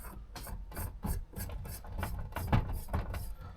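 Threaded part being screwed into a Stromberg carburettor housing on a Range Rover V8, a steady close rasping, rubbing scrape with short repeated strokes and no talk.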